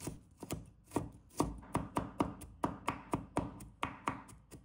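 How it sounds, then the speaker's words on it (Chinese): A kitchen knife mincing crushed garlic and ginger on a cutting board, a quick run of sharp, close chopping taps in a steady rhythm with no talking. "把大蒜拍碎， 生姜也拍碎，然后改刀切成末"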